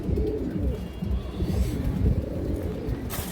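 Pigeons of fancy breeds, red-eyed and red-beaked birds among them, coo steadily in a loft, a continuous layered murmur of low throaty calls with no talking over it.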